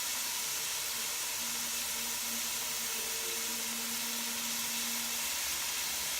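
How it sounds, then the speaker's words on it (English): Steady sizzling hiss of chili ingredients frying in a hot pan over medium-high heat, continuous and even, with a faint hum underneath and no voices. "frying for about a minute or two"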